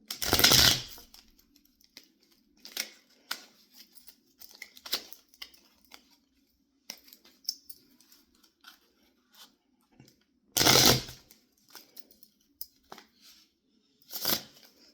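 Several loud bursts of riffling playing cards being shuffled for baccarat on a kitchen table, separated by quieter handling clicks and taps at a close distance.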